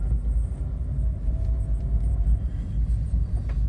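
A car pulls away from a standstill, its engine giving a steady low rumble heard from inside the cabin, with road noise and no talking.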